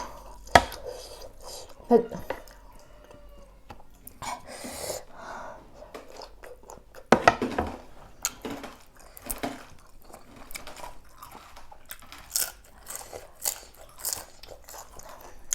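Crunchy food is chewed close up in sparse, irregular bites, a few sharp crunches standing out against quiet gaps, with faint background sounds.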